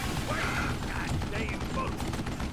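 Mechanical clicking and ratcheting of a gun being reloaded in the Western shooter game Call of Juarez: Gunslinger, set against a dense, steady wash of game background noise.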